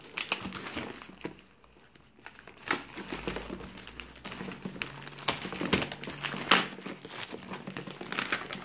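A plastic parcel of fishing gear is opened up close, giving continuous crinkling and crumpling with sharp rustles and taps as the packaging is pulled apart. No one speaks.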